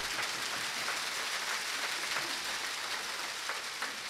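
An audience at a child hunger leaders conference applauds, a steady, dense wash of clapping that holds at an even level throughout, with no voices standing out above it.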